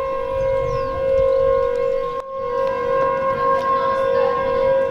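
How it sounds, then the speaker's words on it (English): An air raid siren in Portugal wails steadily, loud and sustained, its two-tone howl holding over a faint outdoor background with a brief dip partway through. "It sounds like an air raid siren."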